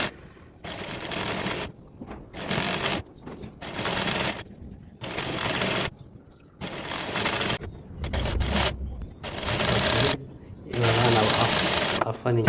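A sewing machine stitches lace onto the sleeve of a kurti in repeated close bursts of rapid mechanical chatter, each a second or so long with short pauses between, while someone talks.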